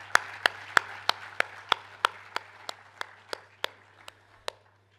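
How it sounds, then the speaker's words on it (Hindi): Rhythmic audience clapping at an honoring ceremony during a business and leadership conclave: about fourteen sharp, evenly spaced claps that slow slightly and fade out, over a steady low hum. "तालियां बजती रहनी चाहिए।"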